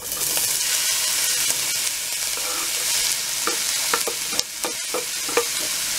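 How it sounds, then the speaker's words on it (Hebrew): Onion fries in olive oil in a pan, a steady bright sizzle with scraping stirs and utensil knocks toward the end, close and loud, no talking. "תחילה אני שמה את הבצל ואני נותנת לזה טיגון ככה 5-7 דקות עד שהוא יותר רך,"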